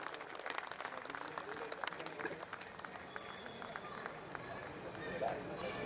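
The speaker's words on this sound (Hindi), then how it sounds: "जोरदार तालियां दोनों हाथ ऊपर करके आदरणीय सुरेंद्र शर्मा जी के सम्मान में।" An audience at a Hindi comedy poetry event in Jodhpur applauds with sustained, dense clapping heard from a distance at moderate level, with crowd noise mixed in.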